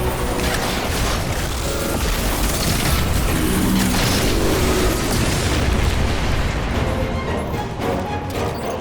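Heavy, continuous booming and crashing from grenade launcher fire in the shooter game Destiny 2: Beyond Light, with dense, loud blasts overlapping into one sustained roar that hardly lets up.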